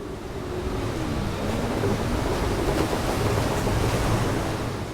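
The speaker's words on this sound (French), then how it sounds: "Le vent se leva d'un coup et la mer devint de plus en plus agitée." Steady roar of wind with rough waves crashing and surging, a dense continuous rush of water noise without any voices.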